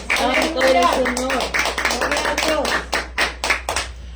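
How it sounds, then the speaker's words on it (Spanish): A church congregation applauds during a Spanish-language sermon, dense rhythmic clapping from many hands that thins into sparser claps toward the end, heard under a preacher's loud voice. "Denle una ofrenda de palmas a nuestro Dios."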